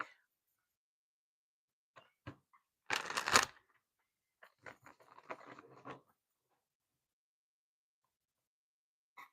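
Two decks of cards are riffled and shuffled close by, a short burst of quick fluttering flicks followed by softer shuffling and taps in an otherwise quiet room.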